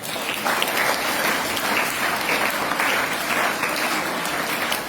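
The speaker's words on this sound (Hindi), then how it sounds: "इनके सम्मान में एक बार जोरदार तालियां हो जाए।" An audience at a school gathering gives strong, continuous applause in honour of the teachers, a dense, even patter of many hands clapping that stays steady throughout, with no talking.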